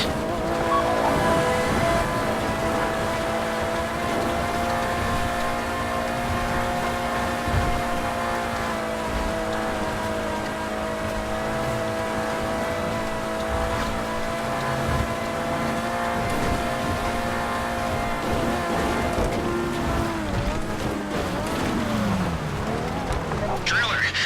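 Car engine droning steadily in the video game GTA during a bank heist mission, with a sustained engine tone throughout and shifting pitch near the end, heard under people talking.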